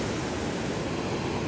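Incoming high tide surf at Divegar beach, a steady, dense wash of breaking sea waves that roars on without pause, close and fairly loud, with no voices.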